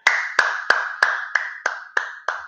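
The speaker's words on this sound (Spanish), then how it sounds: "Venga, un aplauso que seguro que nos escuchan." Eight sharp, evenly spaced claps ring out at close range, each with a short echo, in a slow steady rhythm with no voices.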